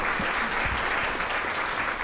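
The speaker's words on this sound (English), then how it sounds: "Let's recognize everybody with a round of applause." An audience at a recognition dinner applauds steadily, a dense crowd clapping that holds at an even level throughout.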